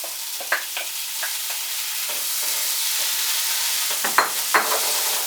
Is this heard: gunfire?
no